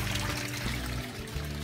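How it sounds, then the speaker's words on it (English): Water pumped through a backyard aquaponics system pours and trickles steadily in a continuous, fairly close wash of liquid noise with no speech. "So the water comes through here"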